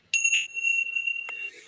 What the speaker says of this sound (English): I got a little bell for that.